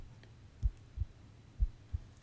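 Low thumping heartbeat in a close, intimate ASMR roleplay setting, four soft muffled beats in two lub-dub pairs over a quiet hum, no talking.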